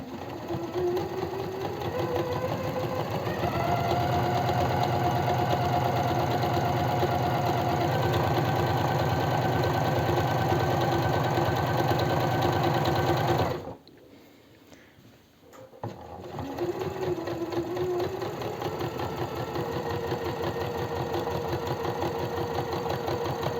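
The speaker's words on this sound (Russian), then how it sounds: "Для этого я по заутюженному краю, по краю строчу." A sewing machine runs close and loud, stitching along the ironed edge of a blouse placket with a fast, steady mechanical rattle, stops for about two seconds, then starts up again and keeps going.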